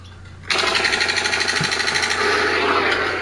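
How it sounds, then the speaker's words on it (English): Sustained rapid automatic gunfire from a machine gun in the sandbox game Teardown, a dense, steady rattling burst starting abruptly after a short pause and continuing loudly to the end. "Now I have a machine gun."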